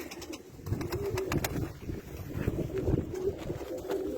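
Pet tumbler pigeons coo in soft, repeated throaty calls close by, layered over a continuous low murmur of the flock with faint background noise.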